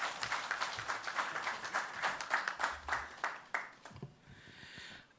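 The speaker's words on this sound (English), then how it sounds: "very warm round of applause" A crowd applauds with dense, fairly quiet clapping that thins out and fades into scattered claps toward the end.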